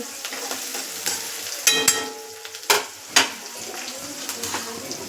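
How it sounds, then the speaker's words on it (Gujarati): A spoon stirs a besan curry mixture with onion in a pan on a low gas flame: soft scraping strokes and a few clinks over a gentle, continuous sizzle, close up. "આ રીતે બધું એડ કરી આપણે બરાબર મિક્સ કરી લેશું"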